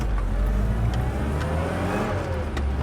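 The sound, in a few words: 1974 mini truck engine revving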